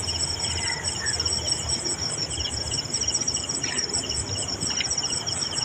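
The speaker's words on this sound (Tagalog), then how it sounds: "ano ba tawag yan? Kuliglig." Crickets chirp at night near an industrial work site in the Philippines, a continuous shrill pulsing trill that stays steady and fairly close, over a low background rumble with occasional faint bird-like chirps.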